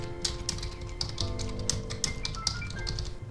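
Quick clicking keystrokes on a computer keyboard tap out text in an uneven rhythm, close and moderately loud over a low background hum, with no talking.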